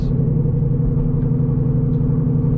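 A Whipple-supercharged S650 Mustang GT with a 10-speed, running a cat-delete exhaust with an X-pipe and dumps, produces a loud, steady, deep burbling rumble throughout, heard up close with no talking over it.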